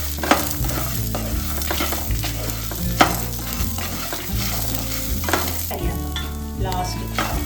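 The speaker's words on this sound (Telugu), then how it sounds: "తర్వాత దాంతోపాటు అల్లం ఎల్లిగడ్డ చిన్న ముక్కలు చేసేది. ఇది కూడా వేగాలండి, మంచిగా వేగాలి." Small pieces of ginger and garlic fry in a pan, cooking for a gutti bandakaya fry. A steady, close sizzle runs throughout, with repeated scraping and stirring knocks of a spatula and no one talking.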